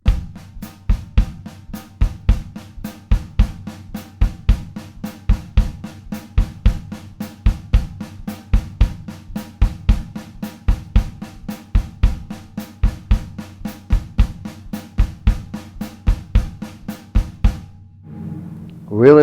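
A drum kit plays a steady sixteenth-note hi-hat pattern over regular kick drum hits. The groove is close, crisp and even, with no voices, and it runs about seventeen seconds before stopping.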